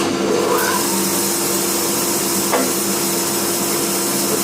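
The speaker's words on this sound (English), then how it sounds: "Turn the power on. Start the bandsaw." A Laguna 18 CX bandsaw runs at a steady pitch with a constant whirring drone and a low hum, loud and close, with no other sound over it.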